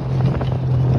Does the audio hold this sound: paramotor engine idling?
yes